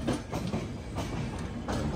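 A Bangalore to Chennai double decker express train rolls along, with a steady loud rumble and clickety-clack of wheels over rail joints, heard from on board with no talk.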